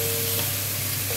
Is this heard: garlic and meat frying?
yes